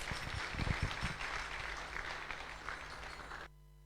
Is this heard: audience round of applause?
yes